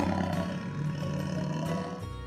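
Children's voices imitate a lion's roar together, a sustained, rough, growling group sound lasting about two seconds before cutting off.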